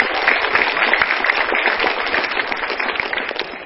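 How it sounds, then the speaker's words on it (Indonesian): Stand-up comedy show audience applauding comedian Mas Iwer on MetroTV: dense, continuous clapping from a crowd, steady and fairly loud throughout, with a few sharp claps standing out. "Tepuk tangan untuk Mas Iwer."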